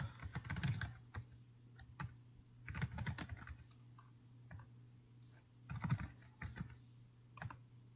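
Keys tapped on a computer keyboard while programming a Raspberry Pi to switch a household light, heard as a few soft, sparse clicks and short clusters of keystrokes in a quiet room.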